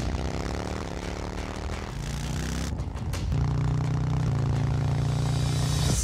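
A Harley-Davidson Low Rider S motorcycle approaches with a steady droning engine note that shifts pitch and then grows louder and fuller, continuous and close.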